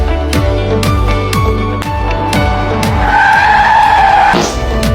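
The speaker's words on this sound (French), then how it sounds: "Oh non, je me suis crevé les pneus" Car tires squealing and skidding on punctured tires in a video game, a loud continuous screech over a droning engine with repeated descending gear-shift sweeps.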